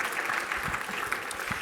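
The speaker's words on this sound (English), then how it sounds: "give yourselves a round of applause" An audience at a corporate conference applauds briefly, with a short burst of dense, steady clapping heard up close.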